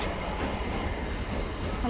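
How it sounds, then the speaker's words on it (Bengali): A steady rumbling roar of a train moving past nearby at Patipukur station, continuous and even, with faint clatter and no clear talk. "এই ট্রেন যাচ্ছে"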